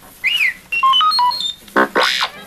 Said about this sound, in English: You will know it is time to turn the page when you hear R2-D2 beep,